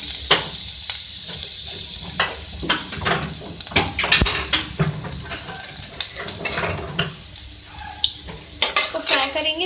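Chopped garlic fries in four tablespoons of oil in a pan, a loud close sizzle broken by repeated stirring scrapes and clinks of a spoon against the pan, with no voices.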